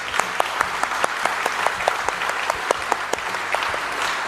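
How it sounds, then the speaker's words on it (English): An audience at a South London International Day of Yoga celebration claps in a steady, lively round of applause, with sharper individual claps standing out from the crowd. "we give them a big round of applause"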